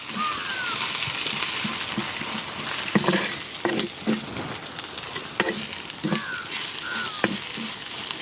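Curry leaves frying in hot oil for a coconut curry, a steady bubbling sizzle with scattered sharp pops and crackles, close and moderately loud.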